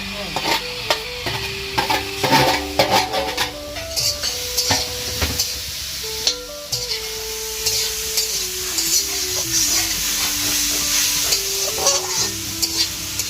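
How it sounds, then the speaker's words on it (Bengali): A new wok on a gas stove sizzles steadily as food is fried and stirred, with scraping and clinking of utensils against the pan throughout. "এই যে নতুন কড়াইয়ে প্রথম ঠাকুরের জন্য ভোগ রান্না হবে"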